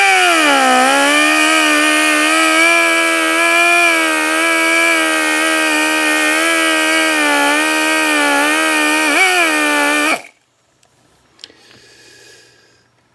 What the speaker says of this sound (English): I've got it on my die grinder here